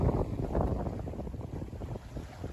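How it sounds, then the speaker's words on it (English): Sailboat running before a northwest breeze at five to seven knots, steered by wind pilot under a patched mainsail; steady rushing wind and water noise fills the scene, loud and continuous with gentle surging swells. "We are rolling along gorgeously, doing 5 to 6, sometimes 7 knots when we surf like that."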